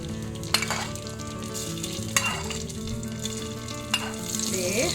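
Hot garnish tempering poured into a coriander chicken curry gives a close, sustained sizzle and bubbling, broken by a few sharp clinks of a utensil against the pan, with no voices.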